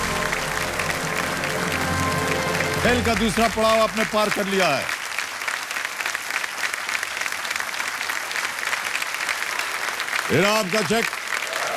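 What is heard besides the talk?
studio audience applause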